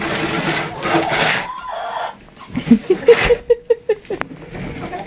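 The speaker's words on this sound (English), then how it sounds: "So helpful, those chickens." Chickens cluck close by, a rapid run of short rhythmic clucks following some rustling and softer bird sounds.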